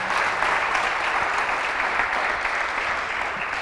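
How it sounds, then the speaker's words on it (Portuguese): A church congregation claps for God during a sermon, a dense, steady wave of applause that holds evenly throughout without anyone speaking. "Você podia dar um aplauso a Ele por isso."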